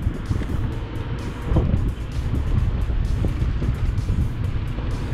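An electric-converted Mazda MX5 Miata with a larger controller pulls away and drives off, giving a close, steady low rumble buffeted by heavy wind noise.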